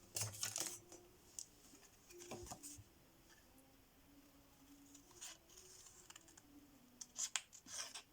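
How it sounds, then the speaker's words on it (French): Paper being cut with scissors while making autumn-themed happy mail, giving scattered crisp snips and rustles in short bursts near the start and end, close and fairly quiet, with no talking. "ce que je peux faire, c'est découper, par exemple ici"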